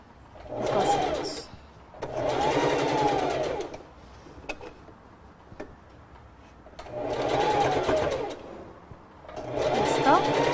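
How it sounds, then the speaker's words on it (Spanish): A sewing machine stitching a girl's culotte skirt, running in steady bursts of a few seconds each with short pauses between, loud and close, with brief handling noises in the gaps. "Vamos a empezar a coser otra vez desde abajo."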